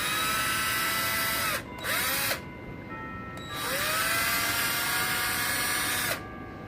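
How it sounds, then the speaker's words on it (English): A power drill pre-drills holes in wood: two sustained high whining runs with brief gaps between them, loud and close, with no talk. "So I'm going to pre-drill the holes right here."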